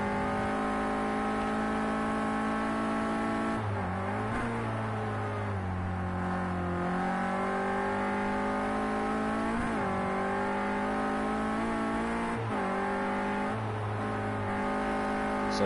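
A Clio Cup race car in Project Cars 2 revs hard and continuously through corners, its engine note rising and dipping with gear changes and lifts, loud and close throughout.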